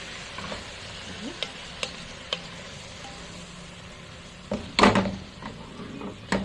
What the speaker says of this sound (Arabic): بقلب بقى لحد ما السبانخ تفضل معايا